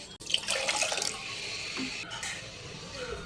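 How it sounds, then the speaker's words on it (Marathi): Water splashes and pours steadily into a pot of kadhi for a few seconds, a bright rushing sound close by with no talking. "आपण याच्यात 1 ग्लास पाणी घालून घेणार आहोत"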